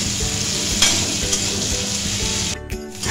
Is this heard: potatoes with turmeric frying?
yes